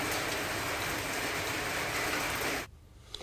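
Steady unseasonal rain falls as a dense, even hiss for most of the stretch, then cuts off abruptly near the end, leaving quiet background.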